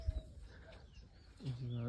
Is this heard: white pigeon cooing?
yes